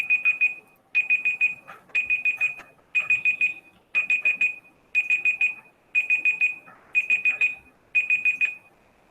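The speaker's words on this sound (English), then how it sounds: "Okay, so your timer is up." A timer alarm goes off, repeating bursts of shrill electronic beeps in a regular rhythm about once a second, clear and alone with no talk.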